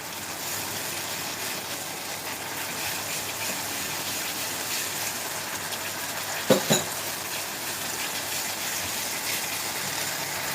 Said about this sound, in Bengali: মশলাটাকে ভালো করে কষিয়ে নিয়ে তারপরে আমি কুমড়োটা কিন্তু অ্যাড করব।